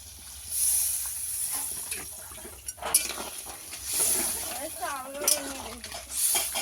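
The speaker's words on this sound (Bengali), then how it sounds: "একটু জল দিয়ে দেবো কাঁকড়াটা সিদ্ধ হওয়ার জন্য।" Water poured over crab in a hot pan gives off a broad hiss and steamy sizzle that swells and fades in bursts, with a few clinks and a person talking partway through.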